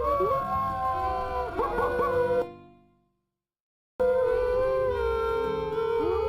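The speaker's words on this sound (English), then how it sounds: "Customary stock wolf howls to welcome you to the camp." Stock wolf howls from the Quest for Glory 4: Shadows of Darkness video game play at a camp. Long hooting howls overlap, cut to silence for over a second, then resume at steady loudness.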